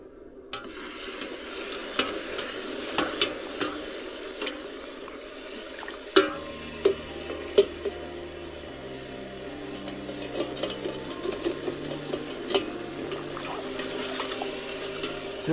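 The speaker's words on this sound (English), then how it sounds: "Take my giant slotted spoon and just mix it around" A giant slotted spoon mixing raspberry-infused water wine must in a pot, liquid swirling and sloshing steadily with occasional knocks against the container and a low hum underneath.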